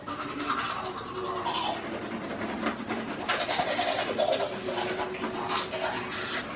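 A toothbrush scrubs steadily for several seconds with a busy, close bristle rasp, joined by faint bird-like cooing in the background.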